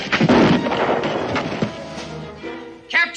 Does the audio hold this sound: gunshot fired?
yes